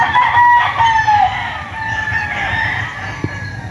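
A rooster crows loudly and nearby, with several drawn-out calls over clucking chickens at a breeder's farm coop in Montalban, Rizal.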